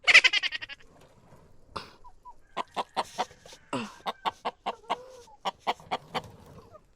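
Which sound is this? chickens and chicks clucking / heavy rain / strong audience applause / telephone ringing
chickens and chicks clucking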